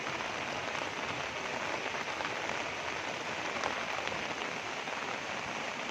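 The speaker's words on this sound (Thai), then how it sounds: "ตอนนี้ฝนกำลังโปรยๆ" Soft, steady light rainfall patters evenly on surfaces near a house in Svay Chek, a continuous fine hiss with no talking.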